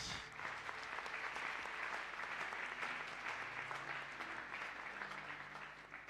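A church congregation at a Pentecost service breaks into loud, even, continuous applause that holds steady for several seconds and then eases slightly at the end.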